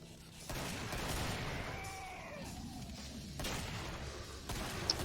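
Grenades in the Killing Floor shooter go off in a chained combo, a burst of loud booms and crashing blasts layered over dense game noise and rumble, with no voices over it.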